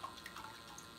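Water flows at a reduced rate out of a tube in a wind-powered aquaponics setup, a faint, soft trickling with small drips, heard close and alone.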